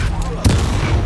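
A burst of fire spell cast in a Hogwarts video game during combat: a sudden whooshing blast that flares up near the middle, over a low rumbling game backdrop.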